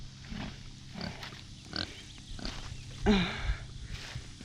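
Pigs on a farm grunting and snorting in short repeated bursts, with one louder squealing grunt near the end, close and fairly quiet against a soft background.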